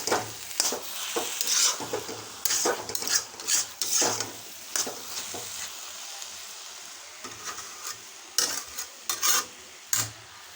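Grated carrots frying in a pan for gajar halwa, with bursts of scraping and rasping as a spatula stirs them against the metal, separated by quieter stretches of soft sizzle; no one speaks.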